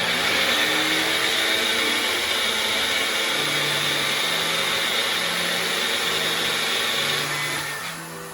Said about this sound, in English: You want to give it a good 30 seconds so it's nice and mixed up.